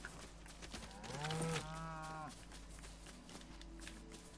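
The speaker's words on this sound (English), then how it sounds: "I pet a cow and it drops milk" A cow in the Fortnite video game lets out one drawn-out, mid-loud moo over steady game background noise, with no talking.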